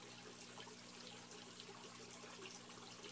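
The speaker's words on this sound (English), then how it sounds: "These tanks have individual currents, complete aeration systems, internal pumps with established bacteria" Aerated eel bait tank with internal pumps and chilled fresh water at a bait and tackle shop, giving a soft, constant bubbling and trickling under a steady mechanical hum.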